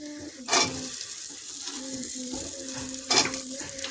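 Vegetables tossed into a hot pan with whole chillies, sizzling steadily while being stirred, with two louder bursts of sizzle as more goes in, close and alone without talk.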